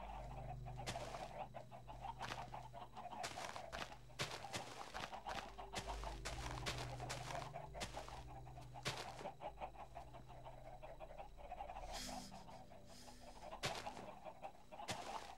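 Minecraft chickens clucking near a fence in the video game, with repeated short bird calls over steady low game noise and a busy background throughout.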